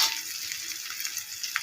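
A fish Mughlai paratha fries in oil with a steady, close, bright sizzle that stays even throughout, with small crackles rising now and then.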